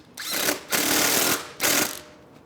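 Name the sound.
tightening bolt and nut with 8mm socket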